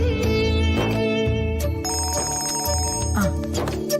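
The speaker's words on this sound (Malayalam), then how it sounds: "നീ ആ ഫോണിങ് എടുത്തേ." A telephone ringtone sounding loud and close, a repeating electronic melodic ring pattern filling the whole stretch with no talk.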